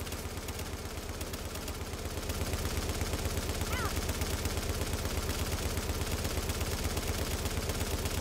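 Sustained automatic gunfire in the video game The Division, a loud rapid stream of shots running for the whole stretch, growing louder partway through with a brief voice under it.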